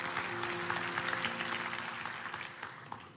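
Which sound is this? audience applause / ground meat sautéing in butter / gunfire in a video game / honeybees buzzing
audience applause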